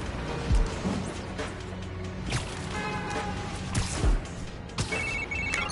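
A short electronic chime of a text message notification in a video game rings out near the end, layered over ongoing game ambience and music with a few thuds.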